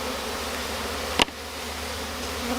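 Honey bees in a small Rose hive colony make a steady low hum throughout, with a brief sharp knock or click partway through, close and moderately quiet with no voices.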